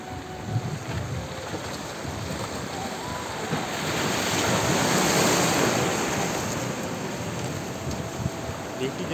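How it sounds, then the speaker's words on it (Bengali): Strong sea waves roll in at Mohona beach, a broad, continuous roar of surf with wind buffeting the microphone, swelling louder through the middle before easing slightly. "বেশি জোরে ঢেউ আসছে"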